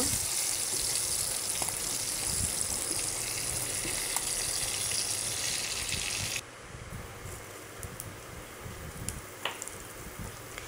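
Cumin seeds sizzling in hot oil in a pan after hilsa fish has been fried, for a Bengali hilsa curry; a steady, bright hiss that drops noticeably partway through, with occasional small pops, no talking.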